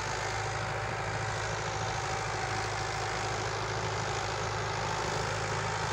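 A Mahindra 575 XP Plus tractor runs with a cultivator attached, producing a loud, unbroken engine drone with a strong low hum that stays steady for the whole stretch, with no voices.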